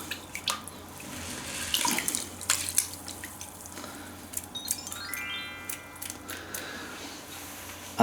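Soaked groats for carp bait swirled around in a container of water, a soft close sloshing and trickling with faint drips and light handling knocks, no talk.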